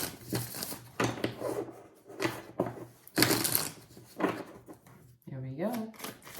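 Tarot cards are shuffled by hand in repeated crisp, papery riffling bursts, fairly close, with a voice talking over and between them.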